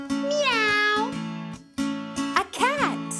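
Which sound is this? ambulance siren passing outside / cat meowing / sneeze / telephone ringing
cat meowing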